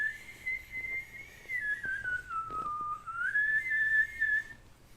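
A person whistles a single sustained tone that dips lower and then rises back up, close and clear over faint background sounds, like an old cartoon whistle, with no talk.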